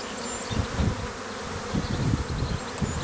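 Honey bees buzz close around a beekeeper's hand during requeening, a steady near swarm drone with soft swelling pulses of wingbeats and no talking.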